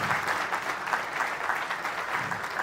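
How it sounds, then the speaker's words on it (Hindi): Loud, continuous applause from the audience at an annual railway pointsmen association seminar in Ajmer division, many hands clapping together in a dense, even roar at close range with no voices over it. "जोरदार तालियां"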